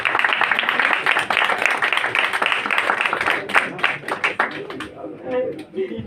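Sustained applause from a live audience at an evening show, dense and steady for several seconds before thinning out as a voice begins to speak.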